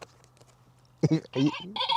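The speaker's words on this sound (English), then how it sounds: "So that one is the sheep. Yes, there's a tone on here called sheep" Sheep tone on a Rippton Bitekeeper Cube bite alarm, a short electronic bleat-like sound in two or three pulses after a quiet start, close and fairly loud.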